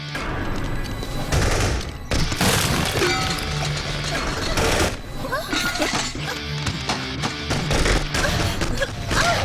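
Gunfire in an action movie scene, rapid bursts of shots and crashing impacts mixed with shouting voices and dramatic effects, loud and chaotic.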